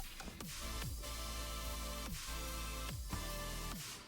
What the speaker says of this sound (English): But anyway, the third drop actually sounds like this.